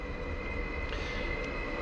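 A train at Pasila railway station in Helsinki gives a steady, loud low rumble with a constant whine on top, unbroken throughout the brief stretch and with no voices.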